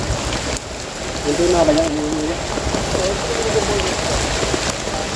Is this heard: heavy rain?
yes